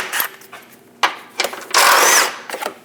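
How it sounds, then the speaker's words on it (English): Short bursts from a power tool turning a 15mm socket on the front air dam bolts of a Chevrolet Express 2500, with a longer loud whir near the end and clicks between, close and without talk. "Using a 15mm socket, remove the two bolts for the front air dam"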